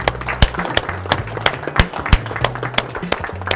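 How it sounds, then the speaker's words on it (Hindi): Guests at a Tajurba business chapter meeting are greeted with applause: scattered sharp claps ring out over a steady murmur and low hum, sounding like a smallish room clapping unevenly rather than a full roar. "तो मेहमानों के लिए एक जोरदार तालियां"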